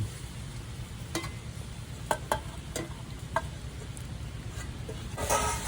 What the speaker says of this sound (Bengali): ভালো করে কিন্তু লাল করে ভাজতে হবে পেঁয়াজ